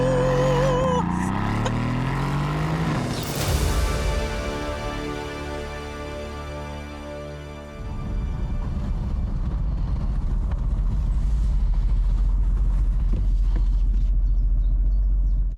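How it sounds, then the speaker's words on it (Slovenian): A Mercedes SL convertible engine rumbles loud and close, a deep steady drone with rising revs early on, then settling into a heavy continuous low growl. "streha zares potencira zvok motorja. In lahko rečem, da avto prav prijetno prede, oziroma lahko kar rečem, da grmi."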